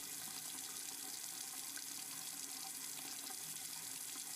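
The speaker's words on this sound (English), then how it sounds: "The sound of running water is coming from somewhere." Running water pours steadily from a tap in a visual novel game, a constant close hiss of flowing water at even volume, with no talking over it.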